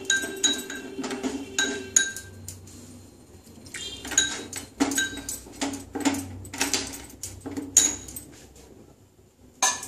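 Ground black pepper being mixed with a little water: a spoon clinks and scrapes repeatedly against a glass or metal container in quick, irregular bursts, close and clear, with no talking.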